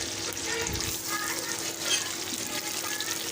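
Chopped onion sautés in a pan with chilies, a dense continuous sizzle with light scraping as it is stirred, steady and close throughout.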